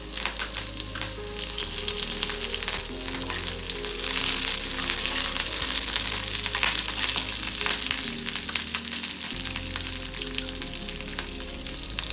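Curry leaves and red chili fry in a hot pan for coconut chutney tempering, a loud, steady sizzle with crackling spits that swells midway and holds to the end, with no talking.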